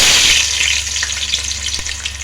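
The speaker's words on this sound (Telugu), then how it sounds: "ఉల్లిపాయ ముక్కలు వేసుకుందాము" Chopped onion pieces hit hot oil in a pan with a loud, steady sizzle that bursts at first and then settles into a continuous close crackle, with a few light stirring knocks.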